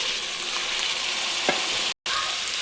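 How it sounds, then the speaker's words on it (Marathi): Potatoes sizzle loudly in hot oil in a kadhai that already holds mustard seeds and chilli paste, a steady bright frying hiss with a few scraping stirs and a brief cut near the end. "आता आपण यामध्ये बटाटे टाकून घ्यायचे"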